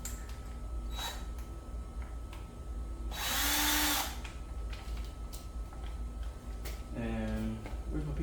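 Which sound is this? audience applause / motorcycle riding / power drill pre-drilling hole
power drill pre-drilling hole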